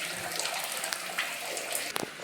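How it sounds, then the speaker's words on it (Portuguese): Water gushes steadily from a Gothic stone fountain set on high ground, a dense, continuous splashing rush heard close up with a few brighter spatters and no voices. "E isto jorra água estando num alto."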